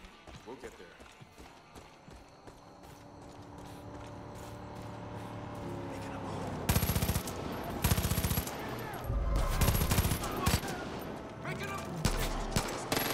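Bursts of gunfire in Far Cry 5 break out over a busy game soundscape with hoof-like clip-clop and engine noise, loud clustered volleys arriving in the second half, with a voice speaking in between.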